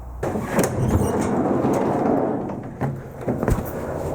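The heavy sliding door of a 1979 Dodge B100 cargo van rumbles along its track and then thuds shut, followed by a couple of sharp metallic knocks.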